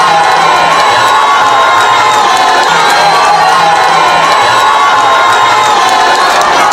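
A packed hall crowd cheers loudly and steadily to welcome Fifi Masuka, a continuous dense roar of shouting voices and high whoops, close and sustained throughout.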